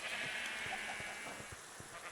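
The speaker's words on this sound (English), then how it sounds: "And now we have 16 varieties of sheep" Blocky video game sheep bleating repeatedly in short overlapping calls over a steady bright background hiss, no talking.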